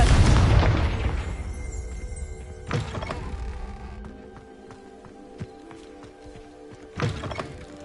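A Confringo spell blasting in Hogwarts Legacy, the video game: a loud, broad explosive burst opens and decays over a couple of seconds, followed by two smaller thumping impacts, with faint ambient tones lingering between them.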